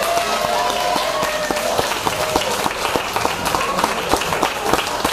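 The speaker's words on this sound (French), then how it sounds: "qu'on peut applaudir également." Audience at an electronic music concert in Saint-Malo applauding, dense continuous clapping with sharp individual claps standing out, loud and close, no talk over it.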